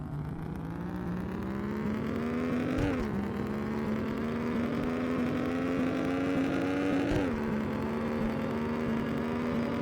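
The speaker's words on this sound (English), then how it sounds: "I replaced the engine sound with the recording from a 3-rotor." A recorded three-rotor rotary engine replaces a vehicle's stock engine sound, droning loud and steady with a rising pitch, broken by two quick gear-change dips around the third and seventh seconds.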